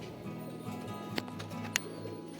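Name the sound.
pigeon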